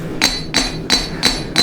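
Steel being forged with a hammer: five loud, ringing metallic blows land at a steady rhythm about a third of a second apart, each with a bright clang, close up with no talk.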